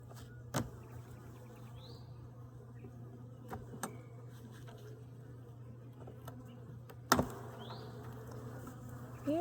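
Honeybees buzz steadily inside an unhealthy hive, a continuous close drone with a few sharp knocks and bumps, and one louder thud near the end.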